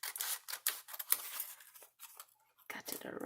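Scissors snip paper trimming around a small tab for a handmade accordion mini journal, a quick run of close, crisp cuts with short pauses, ending in a brief rustle of paper.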